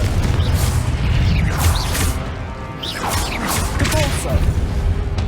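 Confringo spells blasting in Hogwarts Legacy combat, with repeated loud crashing bursts and whooshing impacts spread across several seconds in a busy, constant battle mix.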